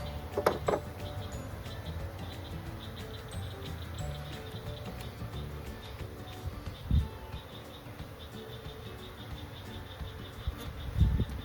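Honey bees buzzing faintly around an open hive during an inspection, a soft continuous drone with a few thumps and knocks from handling frames, no speech.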